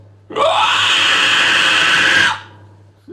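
A single loud, sustained yell into a microphone about two seconds long, close and harsh, cutting off abruptly with a faint hum beneath.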